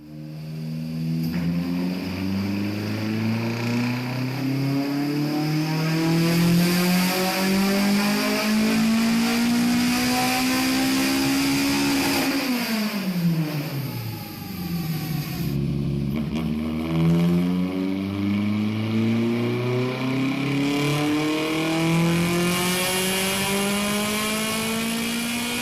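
A stock Toyota AE86 with its 4A-GE engine revs loudly on a dyno, pitch climbing in a long pull, dropping briefly, then sweeping up again in a second sustained run.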